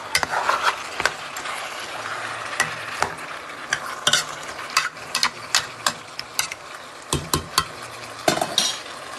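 Chicken sautéed with onion and spices in a pan for a sehri meal: a spoon scrapes and clatters steadily against the pan over a soft continuous sizzle, with sharp metallic knocks recurring throughout.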